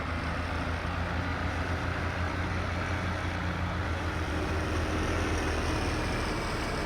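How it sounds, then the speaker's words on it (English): Steady low diesel rumble of a tractor idling in Farming Simulator 22, a constant, even drone held close with no change in pace and no talk over it. "this tractor sounds awesome."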